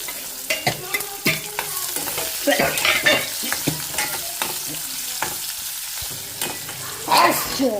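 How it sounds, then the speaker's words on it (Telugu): Loud, steady sizzle of onions frying in hot tempering oil, punctuated by repeated scraping and clinking of a spoon stirring the pan. "సో పోపు వేగింది ఇప్పుడు ఆనియన్స్ వేస్తుంది"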